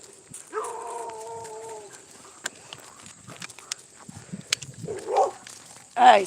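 A dog in a video game gives a long, clear whimpering whine, followed by scattered footsteps and faint clicks, then a short, sharper yelp-like bark at the end.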